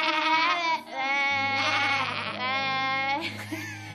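A person imitates a goat's bleat with a strained, wavering voice in repeated drawn-out bleats, loud and close, with a low sustained tone underneath in the second half.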